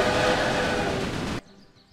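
A train rolls along in the railway management game Railway Empire, a steady rumbling run that cuts off abruptly near the end of a short stretch.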